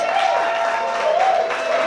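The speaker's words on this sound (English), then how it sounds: "A round of applause." Audience applause at a live show at the Chicago Vintage Show in Berwyn, Illinois, a steady dense patter of many hands with crowd noise and a faint voice running through it.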